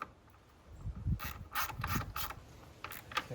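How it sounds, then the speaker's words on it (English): A ratchet with a 10 millimeter socket tightens the battery hold-down clamp on a 2022 Jeep Gladiator, giving several quiet, close bursts of rapid clicking separated by short pauses. "So we'll tighten that back up, and that'll secure the battery."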